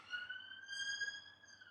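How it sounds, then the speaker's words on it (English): A police car siren sounds faint and distant, holding a steady wailing tone for under two seconds, with no other sound over it. "police sirens"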